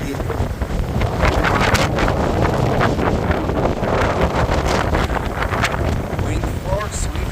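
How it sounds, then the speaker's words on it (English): Strong gusty wind roaring across the microphone aboard a sailboat on the Atlantic, a loud, rough and constant rush with faint water noise beneath. "wind force, wind gusts."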